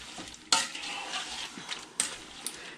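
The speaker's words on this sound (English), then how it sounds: "I'm going to give it a stir." A spoon stirs pickle brine with cucumbers in a pot for bread and butter pickles, making a close scraping knock against the pot and wet swishing, with two sharper clinks.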